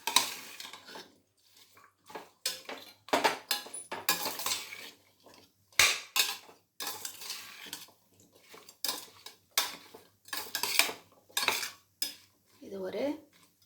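A ladle scrapes and clanks against a pot while mixed vegetables and salt are stirred together for mixed veg rice, making repeated close metallic knocks in irregular bursts with short pauses and no talk.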